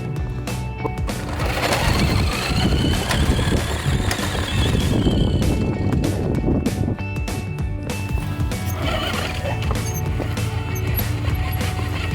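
New Bright 1/6 scale Chevy Silverado RC truck on its first run, a continuous electric motor whine with rattling and bumping of the plastic body over rough ground, close by throughout.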